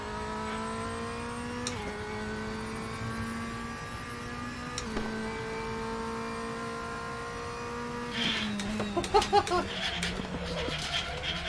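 Race car engine in a sim racing game droning at a steady high pitch with gear-shift steps and rising revs, then turning rougher and busier near the end, with no talk.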